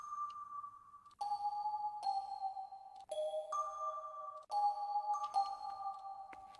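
A melody from the Crystalline preset of the Atom synth plugin, with bell-like tones sustaining and ringing over a soft reverb tail as notes change every second or so.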